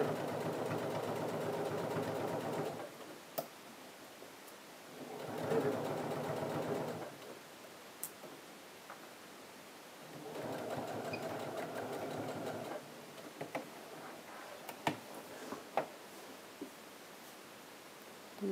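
A sewing machine stitches fabric pieces together at a 1 cm seam while sewing a trouser fly, running in three steady whirring bursts with pauses between, plus light clicks and fabric handling.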